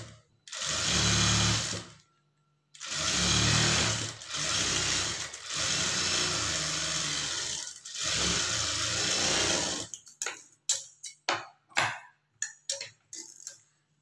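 A sewing machine stitches blouse fabric in several loud sustained runs separated by brief pauses, followed by a series of short, choppy bursts near the end.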